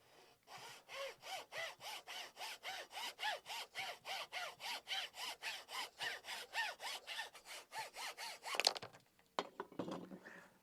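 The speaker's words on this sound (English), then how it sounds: "for just cutting a nice straight line in fine wood, there's nothing better than a hacksaw" A hacksaw cuts through a teak deck board in fine wood with a steady, even rhythm of about two dozen close back-and-forth strokes, quiet and alone, ending in a scrape and a few clatters.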